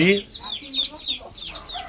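A country hen sitting on its nest of eggs clucks in a quick, agitated series of short calls, close by and fairly loud, with a few brief pauses over about two seconds.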